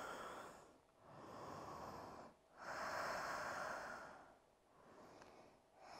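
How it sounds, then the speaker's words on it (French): Slow, deep breaths during an advanced yoga balance session, several long inhales and exhales in a steady rhythm, close and fairly soft, with no talking over them. "Profitez-en pour revenir à une respiration profonde."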